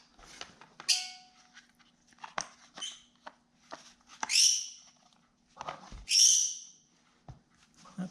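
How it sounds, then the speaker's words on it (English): A pet parrot squawks in the background of an indoor workshop, with several loud, harsh bursts spread out between quieter clicks and small handling noises. "That's my very noisy parrot in the background being rude."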